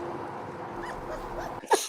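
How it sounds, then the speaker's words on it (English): A three-legged dog whimpers and yips in short, sharp bursts near the end, loud and close after a stretch of low indoor room noise. "Another 3-legged dog."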